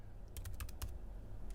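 Quick keystrokes on a Mac keyboard typing a file name, a close, crisp cluster of about six taps followed by a pause and one last tap, no talk.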